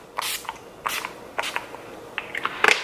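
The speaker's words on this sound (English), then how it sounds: "And you just do a couple of sprays right on your face" Several short, breathy mist bursts of Urban Decay makeup setting spray are pumped onto a face at close range, spaced irregularly over a few seconds.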